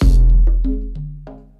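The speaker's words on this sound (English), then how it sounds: "that's what happens when I hit the kick drum once" A deep kick drum on an electronic drum kit thumps once, loud and booming, its low tail ringing out beneath a few faint tonal blips.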